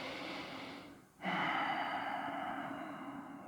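Deep breathing during an evening yoga flow: a long, airy exhale, a brief pause, then a fuller breath that sustains to the end, close and steady with no talk.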